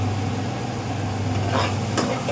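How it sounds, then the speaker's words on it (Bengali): Coconut paste being stir-fried in oil in a pan while cooking taro, giving a steady close sizzle with soft scraping stir sounds and a couple of brief louder spatula scrapes near the end. "ভালো করে এটা দিয়েও কিন্তু কষাই নেব তেল ওঠার না পর্যন্ত কিন্তু এটা কষাইতে থাকতে হবে"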